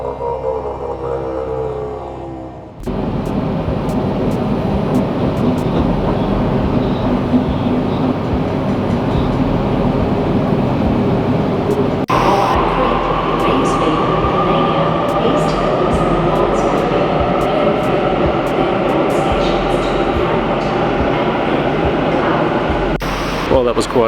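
A Sydney train rides toward Circular Quay on Australia Day, with a loud steady rumble and rattling wheels, a sudden jump in noise as it picks up, and brief clicks and squeals throughout.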